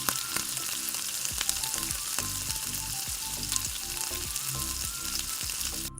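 Puris deep-frying in hot oil for a brinjal curry meal, a steady dense sizzle and crackle with repeated soft thumps and stirring, close and continuous throughout.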